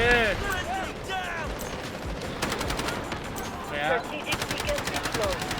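Gunfire in the shooter game Delta Force, with bursts of rapid automatic shots and single cracks over steady ambient game noise, moderately loud and close.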